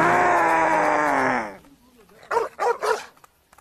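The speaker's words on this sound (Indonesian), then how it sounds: "anjing tersebut malah mengancam balik dengan cara menggonggong yang lebih keras" A large black dog barks loudly in several sharp, close bursts after a stretch of sustained loud sound.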